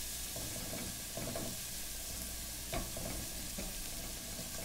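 BBQ sauce ingredients sauté in a pan as a faint, even sizzle, with a few soft scrapes of stirring and one sharper knock near the middle, heard alone.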